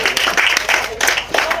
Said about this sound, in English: Another round of applause for Katie and Meg, please.